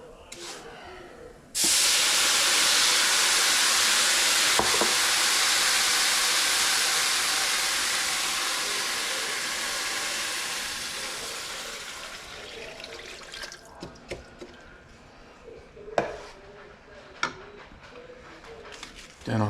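Water pours into a hot pan of golden-browned rice and erupts into a loud, steady steaming hiss that slowly fades over many seconds, followed by quieter bubbling and a few sharp clinks and taps near the end.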